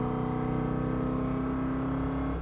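A 1985 Chevrolet C10 pickup with a 355 small-block Chevy V8 accelerating, heard from inside the cab as a steady, loud engine drone with a rising tone throughout.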